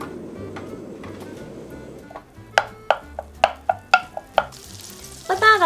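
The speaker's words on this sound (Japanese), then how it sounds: "今日はね油ではなくて無塩バターを使って炒めていきます。" Unsalted butter sizzles in a pan with a soft, hissing crackle for about two seconds, then sharp taps and scrapes of a utensil against the pan follow, close and fairly loud.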